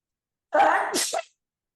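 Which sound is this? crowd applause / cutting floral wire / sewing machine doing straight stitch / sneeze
sneeze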